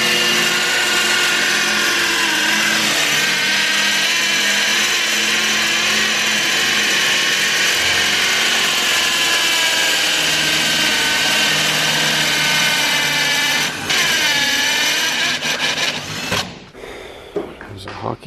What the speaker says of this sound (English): Drill these first, drill the hockey pucks, slide the hockey pucks over